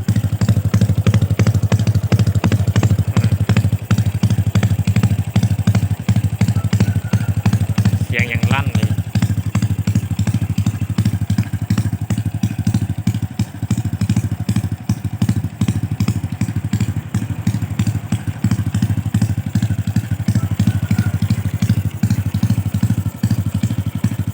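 A motorcycle exhaust rumbles loudly and steadily up close, with a deep throaty idle and crackling pops throughout.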